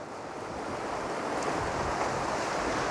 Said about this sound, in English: The sea is really starting to come in now, it's gorgeous.